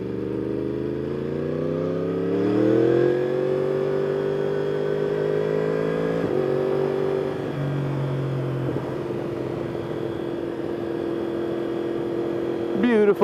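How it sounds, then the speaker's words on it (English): A 2021 Yamaha R1 sport bike with a Woolich tune, its engine note dropping in steps through quick-shifted downshifts at low revs, a loud, close, steady drone with audible gear changes while a rider talks over it. "it's probably too low of an RPM to quick shift down"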